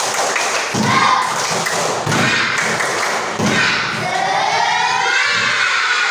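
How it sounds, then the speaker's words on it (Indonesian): A class of schoolchildren performs the tepuk semangat chant, loud group clapping in rhythmic bursts mixed with voices calling out the chant in a classroom. "Sebelum memulai tugas kedua, tepuk semangat."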